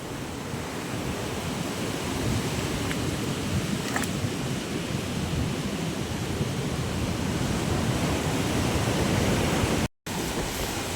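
Heavy sea surf floods over a beach hut, a broad, continuous roar of rushing water, loud and unbroken, with a brief dropout near the end.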